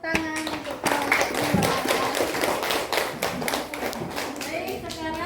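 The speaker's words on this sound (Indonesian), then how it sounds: "Beri tepuk tangan untuk kelompok" Students in a classroom clap for a group, a brisk run of many hands clapping close by with children's voices chattering underneath.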